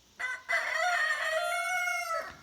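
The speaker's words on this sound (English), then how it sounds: "And the roosters are excited." A single rooster crows one long, loud drawn-out call close by, rising after a brief opening note, on a rural property in Jackson County, Kentucky.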